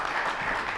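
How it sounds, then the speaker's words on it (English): Audience applause for feature performer Scott Wild at a Bonnie Kate show, a steady dense wash of clapping that stays loud and even from start to finish without a break. "Let's give a big round of applause for Scott coming out tonight."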